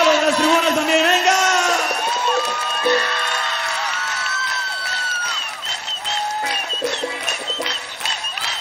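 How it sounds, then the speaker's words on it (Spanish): A large concert crowd at a show claps and cheers, a broad wash of applause and shouts carrying steadily under a singer's sustained voice and music. "¡Manos arriba y palmas aplaudiendo!"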